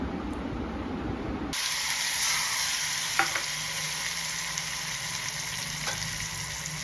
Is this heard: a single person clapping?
no